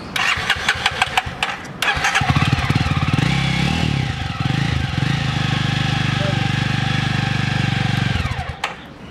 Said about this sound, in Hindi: तो भाई जरा इसके सुनाना मेरे को इसका एग्जॉस्ट।